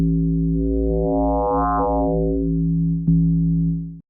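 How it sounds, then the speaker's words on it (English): An analog synth sine wave, frequency-modulated at audio rate by the FMFX Max for Live device, holds one steady note while its bright added harmonics sweep up and back down, with a small click near the end. "that is modulating the frequency of the output of the analog instrument at audio rate, creating new harmonics"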